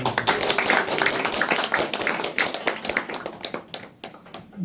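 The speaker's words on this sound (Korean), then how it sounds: "큰 박수로 우리 노수대 의원을 모시겠습니다." An audience claps to welcome a speaker to the stage at a Korean historical memory event, a brisk, moderately close burst of individual hand claps that thins out and becomes sparser near the end.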